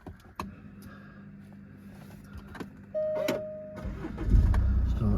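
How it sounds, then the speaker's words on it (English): A Jaguar XF 2.2d diesel saloon with automatic gearbox starts up: a starter whine cuts in and the engine catches into a loud low rumble that settles into a steady idle, close up inside the car. "Just start the car up."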